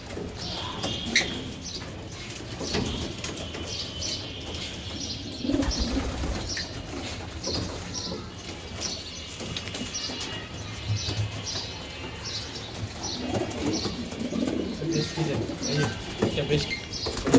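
Racer pigeons at a loft coo in a low murmur while wings flap in repeated bursts, with scattered chirps throughout a long, busy stretch; someone talks at times underneath.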